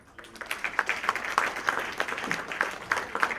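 Audience applause breaks out at a panel session on gaming, a dense, steady patter of many hands clapping that swells and holds across the room without any voice over it.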